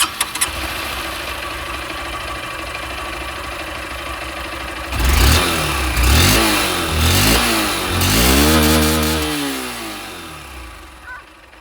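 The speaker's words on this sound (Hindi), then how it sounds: "ये था यहाँ पर SP160 का एग्जॉस्ट साउंड" Honda SP160 motorcycle exhaust, a steady low idle that breaks into several sharp throttle blips and revs rising and falling, close and loud with no talking.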